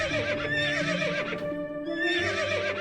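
A stallion whinnies in the Ultima IV video game, a loud, close, wavering neigh that pauses briefly and then resumes, with faint hoof clip-clop underneath.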